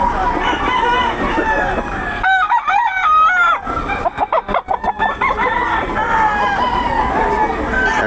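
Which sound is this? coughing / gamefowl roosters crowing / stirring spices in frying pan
gamefowl roosters crowing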